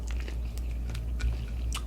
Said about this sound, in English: That crunchy bread. Who likes that crunch?